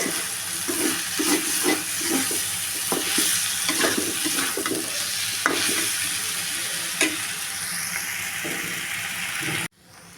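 Flat beans and Taki fish stir-fry in a pan for a mashed bharta, a steady close sizzle with rapid spatula scrapes over the first seconds that then thin out before the sound cuts off.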